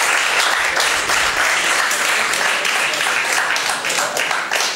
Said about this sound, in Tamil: உங்களுடைய கரகோஷத்தை நீங்களே செலுத்துமாறு கேட்டுக்கொள்கிறேன்